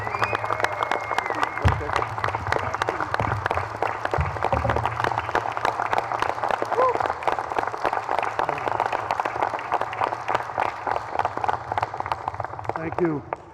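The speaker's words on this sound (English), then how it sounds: "Let's give Ron a big round of applause, everybody." An audience applauds steadily and loudly at a Mayor's Night Out civic event in Hammond in June 2021, the clapping sustained for the whole stretch with a voice speaking over it.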